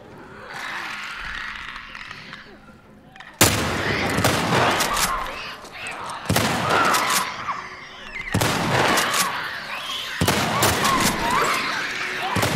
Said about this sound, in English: I'm gonna shoot this clicker. Hold on, let me get my rifle out.